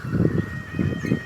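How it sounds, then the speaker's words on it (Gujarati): Peacocks calling around a village house in the early morning, giving several loud, honking cries in quick succession that rise and fall close by. "જો આ મોરલા"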